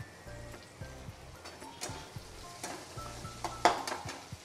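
A spice paste of garlic, red chilli and salt is sautéed in a pan with a little mustard seed: a spoon scrapes and clinks against the pan in quiet, irregular strokes over a faint sizzle.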